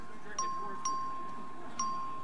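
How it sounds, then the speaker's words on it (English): A clerk rings the voting bell in a state House legislative chamber during a floor vote, giving several clear, evenly spaced electronic dings over steady room noise. "Clerk will ring the bell."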